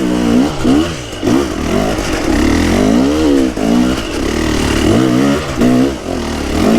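A 500 dirt bike engine revving hard and close, with rising and falling pitch sweeps as the throttle opens and eases across repeated bursts, loud and continuous without speech.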